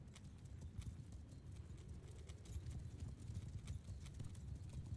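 Horses gallop in a Mount & Blade II: Bannerlord battle, many overlapping hoofbeats pounding in a rapid continuous clatter, moderately loud with a faint whinny.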